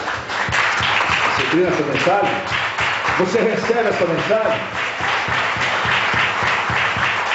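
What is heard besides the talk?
congregation applauding in church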